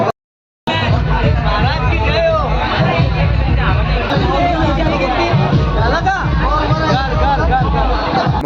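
Dense crowd chatter at an inauguration event, many voices overlapping loudly and continuously after a brief silent start.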